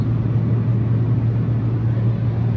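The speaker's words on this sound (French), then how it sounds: "Et voilà, on est dans la voiture." Steady low engine and road drone from inside a moving car, a continuous even hum filling the cabin with no talking.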